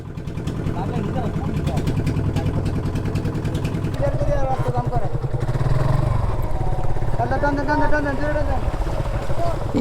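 Motorcycle engine running at a riverside boat landing in Kalmakanda, Netrokona, while the bike is unloaded: a steady, close, low idling rumble throughout, with several people talking over it.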